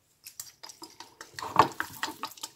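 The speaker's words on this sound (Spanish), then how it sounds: "Vamos a revolver bien para que se integre todo." Chicken wings in sauce are stirred in a frying pan, with repeated scraping and clinking of a utensil against the pan in an uneven rhythm, close and fairly loud, a light sizzle beneath.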